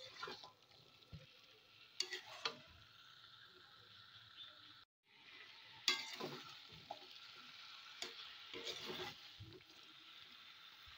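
Chicken sautés in a pan for a Chinese-style chicken dish, a quiet continuous sizzle broken by repeated scraping and clacking strokes of a spatula as it is stirred.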